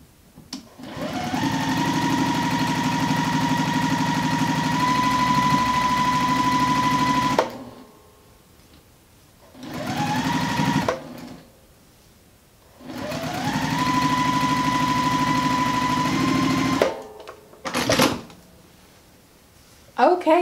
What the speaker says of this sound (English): I'm going to take this over to my sewing machine, sew a quarter of an inch